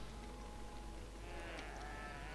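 A goat in World of Warcraft bleats once, faint and slightly distant, against a constant background hum of game ambience.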